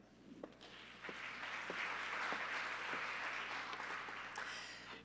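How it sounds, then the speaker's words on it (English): A symposium audience applauds a speaker coming to the stage with steady, moderately distant clapping that holds evenly for several seconds, individual claps popping out of the wash. "Please give a warm round of applause to Ms. Katherine Hanna."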